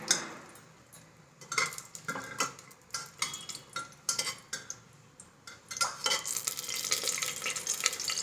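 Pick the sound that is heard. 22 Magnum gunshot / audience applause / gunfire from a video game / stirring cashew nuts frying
stirring cashew nuts frying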